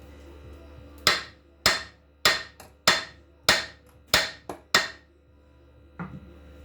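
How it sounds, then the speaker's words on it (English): Seven sharp metallic taps from a no-bounce hammer on a 1963 Austin Healey engine part during disassembly, evenly spaced in a steady rhythm, close and clear, followed by one softer tap. "This is a no bounce, so you can give it a slight hit"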